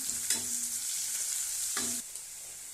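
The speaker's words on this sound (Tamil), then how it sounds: "இப்போ வந்து கேரட்டு நல்லா வந்து வதங்கிடுச்சு" Carrots sautéing in a pan for noodles, with a steady close sizzle of frying and a couple of distinct scraping stirs from a spatula, no voices.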